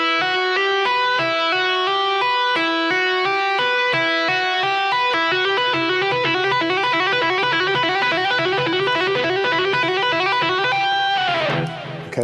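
A fast, even stream of tapped guitar notes cascading in a repeating arpeggio pattern, bright and continuous, ending with a sliding ringing note.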